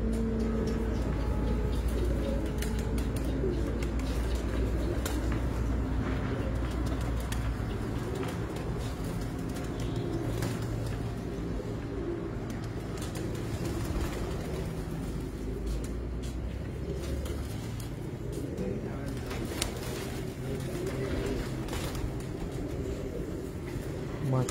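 Breeder pigeons coo steadily in a loft, a low continuous murmur of overlapping calls lasting throughout, with faint background traffic and occasional voices.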